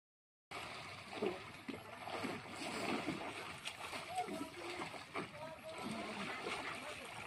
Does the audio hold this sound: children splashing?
yes